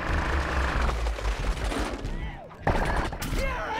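Rapid gunfire crackles in Plants vs Zombies Garden Warfare 2, a dense rattling burst over game noise and music, briefly dropping off before resuming, with a voice talking over it.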